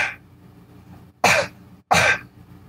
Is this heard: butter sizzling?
no